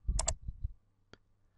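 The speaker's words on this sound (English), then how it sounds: "Click on it." Computer mouse clicks while working in MYOB Premier accounting software, a couple of quick close clicks followed by a single isolated click in a quiet room.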